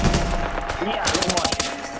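Rapid bursts of gunfire in the video game Arena Breakout crackle in quick succession, loud and sharp, with a brief lull before another fast volley near the end.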